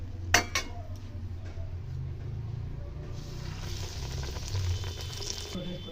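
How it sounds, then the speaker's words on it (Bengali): Eggplant slices crisping in hot oil give a constant close bubbling sizzle, with a couple of sharp utensil clinks at the start and no talking. "দেখো শব্দ হচ্ছে, বুঝতে পারছো অনেকটাই মচমচে হয়েছে আর লাল হয়ে ভাজা হয়েছে"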